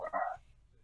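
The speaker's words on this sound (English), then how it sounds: "Dog." A dog gives a single short bark, close and fairly loud, with nothing after it but quiet room tone.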